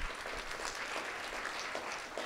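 An audience gives a steady round of applause for presenters at a closing session, a dense, even wash of many hands clapping, heard at a moderate distance with no voices on top.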